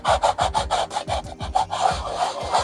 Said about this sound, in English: Just kind of sand everything flat.